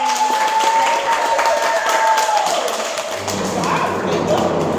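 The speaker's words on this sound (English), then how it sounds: "Clap it up for our guests again." A studio audience claps for guests before a break, a continuous moderate patter of hands that carries on steadily, with a faint tone audible early on.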